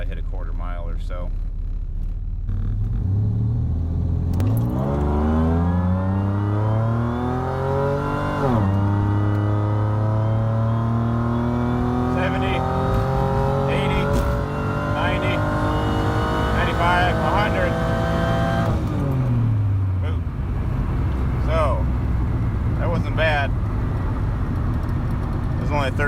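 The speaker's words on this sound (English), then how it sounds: "floor it, see if I can control the launch, and then once I get up after first, I'm gonna manually shift into second and stay in second" A supercharged 3800 V6 Fiero XPZ launches hard on a quarter-mile pull, its loud engine rising steadily in pitch, dropping at each gear change, then climbing again throughout.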